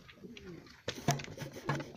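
Adana native diving pigeons cooing close by in a loft, a few soft low coos standing out over light rustling and background noise.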